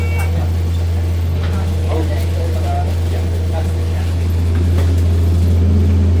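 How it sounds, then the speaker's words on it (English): Go Ahead London ADL Enviro 200 MMC single-deck bus on route 5, its engine giving a steady, loud low drone throughout with a rough, unpleasant tone, while passengers chat over it. "It's the same bus as last time. It's a really bad noise."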